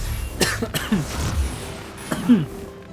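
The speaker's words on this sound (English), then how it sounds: "I started coughing and it killed the stream for a second." A streamer coughs several times during a live game broadcast, short harsh bursts close to the microphone with no speech in between.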